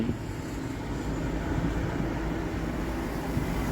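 A truck loaded with turmeric travels the Assam to Tripura road, heard from inside as a continuous heavy, low engine and road rumble at a steady, fairly loud level.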